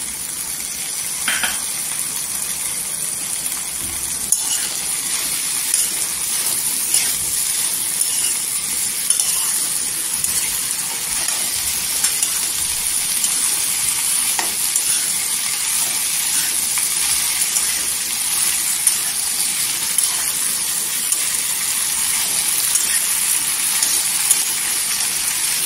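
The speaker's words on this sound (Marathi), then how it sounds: "इथे भेंडी तेलावर परतलेली आहे" Okra frying in oil in a pan, a steady soft sizzle with scattered small pops and crackles running throughout, close and fairly quiet, with no talk.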